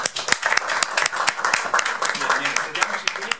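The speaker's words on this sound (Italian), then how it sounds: "un applauso per lui" Audience applause at a Startup Grind Milan event as a guest is welcomed on stage: dense, steady clapping from a crowd with sharp individual claps, with a voice mixed in underneath.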